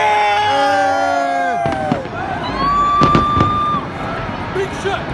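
Fireworks bursting over London's New Year celebration: several loud booms and crackling bursts over a constant crowd roar, with whistling rockets rising and people cheering close by.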